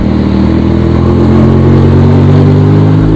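A manual motorcycle engine runs loud and close, as if picked up right beside the engine rather than the exhaust. It holds a steady, continuous hum while the bike rides along a city street in Semarang, with no talking.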